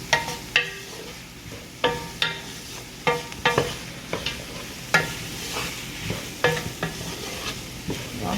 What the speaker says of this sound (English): Your 1/4 cup of flour, just dump it on in there. And just stir it up.